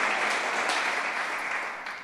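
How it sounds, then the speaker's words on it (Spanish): A church congregation claps together in steady, broad applause that holds evenly, then thins and fades slightly toward the end, with no talking over it. "si quiere darle un aplauso a Dios, déselo."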